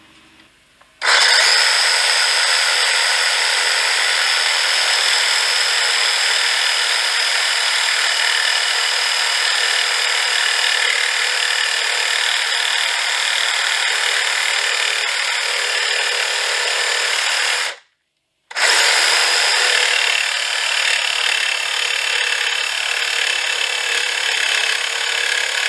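A 1950s Craftsman table saw cutting wood while making a zero clearance insert: a loud, steady buzzing blade that runs almost continuously, cuts off briefly near the end, then starts again, with no talk.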